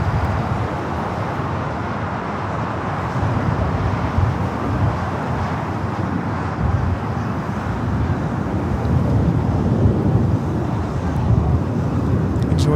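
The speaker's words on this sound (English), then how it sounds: "This flight taking off is Delta Airlines 465 taking off to Honolulu on the" Delta Airlines Boeing 767-300ER jet taking off from Los Angeles LAX, a steady loud broadband engine roar with wind rumble that holds evenly throughout, no voices.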